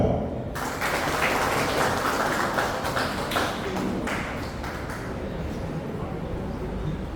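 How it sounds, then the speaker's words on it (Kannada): Short burst of applause at a Lions Club Bantwal meeting during a Christmas and New Year celebration, a dense room-wide patter of hands that starts abruptly and carries on steadily at moderate loudness. "ಸಣ್ಣ ಚಪ್ಪಾಳೆ."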